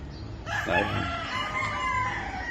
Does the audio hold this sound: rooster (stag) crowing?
yes